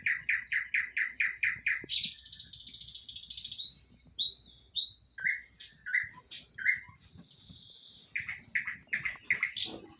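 Indoor birds sing and squawk up close, loud quick runs of chirps and whistles in bursts with short pauses, some harsh squawks mixed in.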